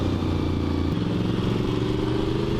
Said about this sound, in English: You can tell it's an older bike because the engine's doing more than the brakes are.